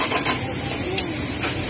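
Onion and garlic sizzle in hot cooking oil with a steady, bright hiss that stays fairly even throughout, close up and alone without distinct speech.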